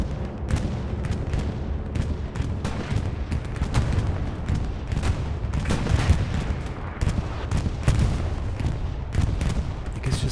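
Bombing-run explosions in the World War II shooter Hell Let Loose on the Omaha Beach map, heavy continuous booms and rumbling blasts layered over steady battlefield gunfire for the whole stretch, with no clear pause.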